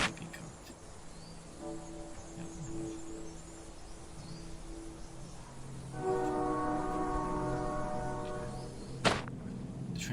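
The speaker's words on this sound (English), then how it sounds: "The train whistle's getting louder, yes." Train whistle blows in the horror game A Dark Place, a faint, drawn-out horn tone that fades in, then returns louder and fuller partway through over an eerie ambient drone, with a sharp hit near the end.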